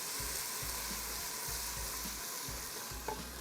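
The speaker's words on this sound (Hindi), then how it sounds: "यहाँ पर हमने डाला लहसुन अदरक का पेस्ट।" Garlic ginger paste fries in hot oil for a rice dish, a steady close crackling sizzle with rhythmic stirring thumps from a spoon against the pan.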